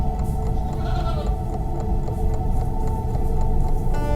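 A black goat bleats repeatedly over a steady, noisy background, close and fairly loud, with no voices.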